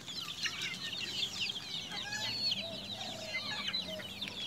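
Native chickens in Bicol cluck and chatter as they hurry in to be fed, a busy mix of calls at moderate distance, soft and continuous with no talk.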